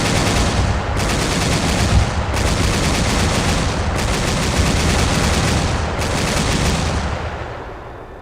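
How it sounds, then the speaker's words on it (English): Continuous heavy automatic gunfire crackles through a military video game operation, a dense loud barrage with brief gaps roughly every two seconds, thinning slightly at the end. "Just firing widely."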